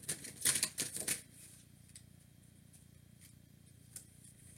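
A tarot card being handled and drawn from the deck, with a quick burst of card slides and shuffling up front, then quiet with a few soft, faint ticks.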